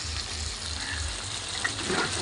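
Mixed vegetables frying in oil in a pan as green chillies go in, a steady close hiss and sizzle throughout the short stretch with no talk.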